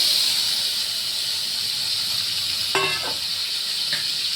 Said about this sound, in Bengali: আমি এবার এখানে আলু, পেঁয়াজ আর টমেটো কেটে রেখেছি, এটা আমি ঢেলে দেবো।